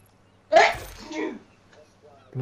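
A single sharp sneeze from a woman during an ARK Survival Ascended gaming session, loud and close, followed by a short trailing breath and a quiet pause.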